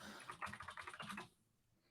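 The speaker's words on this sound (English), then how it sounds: "I hear Tivis typing away." Rapid typing on a computer keyboard, a quick run of fairly faint key clicks that stops abruptly partway through, leaving near quiet.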